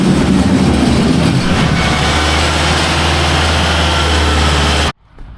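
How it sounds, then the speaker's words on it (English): A small skid steer loader's engine runs steadily and loud in a farm barn, a constant close mechanical drone with low rumble that stops abruptly near the end. "bring the little skid steer around"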